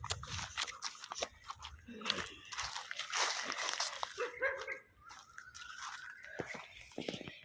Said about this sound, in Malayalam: ഇവിടെ പട്ടിയുണ്ട്.